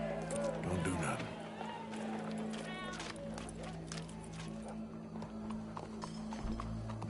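Horse hooves clip-clopping in the video game Red Dead Redemption 2, a steady trotting beat set against a low droning music bed, with a voice speaking over it and a faint whinny.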